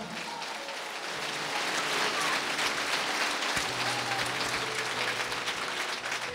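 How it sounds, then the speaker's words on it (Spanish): Steady applause from a church congregation fills the space, a dense wash of clapping that holds throughout at an even level. "Fuerte aplauso, Iglesia de Cristo"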